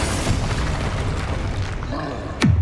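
A Bombarda spell explosion in Hogwarts Legacy, heard as a loud sustained rumble with a sharp burst near the end that drops in pitch.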